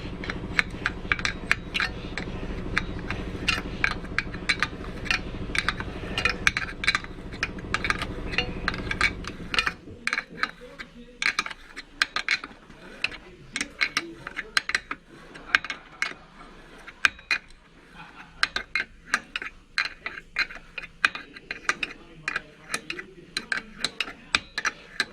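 A ratchet works a seized bolt on a lawn mower engine back and forth, giving sharp, rapid clicking bursts near the microphone; a dense stretch of clatter at the start gives way to sparser, irregular ticks.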